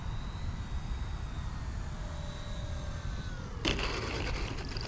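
A blue Arrows Bearcat 1100mm RC airplane flies overhead on a calm evening, its thin electric whine drifting across the sky under steady outdoor noise, with a burst of broadband rustle near the end.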